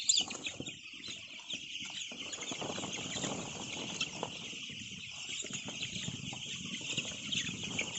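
Chickens in a coop at night cluck and rustle steadily over a constant background hum, with occasional wing flaps and no talking.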